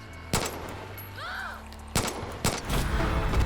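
Pistol shots in Far Cry 5 crack out as a few loud, separate bursts with gaps between them, over steady game ambience and a brief whooshing effect.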